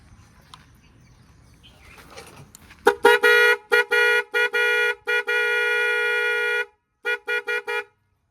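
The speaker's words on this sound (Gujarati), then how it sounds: "આપણા ગાડીના હોરન ઓકે થઈ ગયા છે" A car horn, just repaired after not sounding properly, blares in a series of sharp honks, short bursts and one long sustained blast, loud and close after a quiet start.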